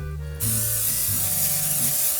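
A short pause, then a sudden strong hiss of an aerosol can of cooking spray spraying close up, held steadily for a couple of seconds.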